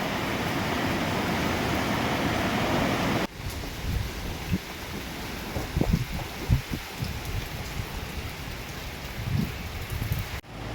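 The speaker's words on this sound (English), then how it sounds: "these waves crashing" During a typhoon on a Philippine beach, heavy surf crashes ashore in a dense, continuous roar with wind and rain, and scattered closer splashes rise out of the steady wash.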